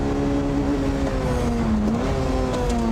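Nissan Fairlady Z Nismo race car on a circuit, using the kerbs on an inside line to pass a Renault; steady loud engine drone with shifting pitch throughout, several cars audible together, no talk.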